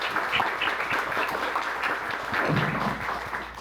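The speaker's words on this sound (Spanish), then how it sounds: "Un aplauso para ustedes, por favor." An audience applauds at a book launch with steady, moderately loud clapping from a room full of people, the individual claps audible and sustained throughout.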